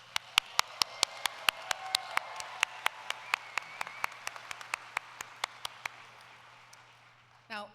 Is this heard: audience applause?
yes